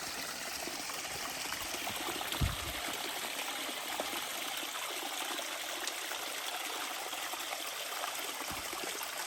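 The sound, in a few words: flowing water on a hillside trail stream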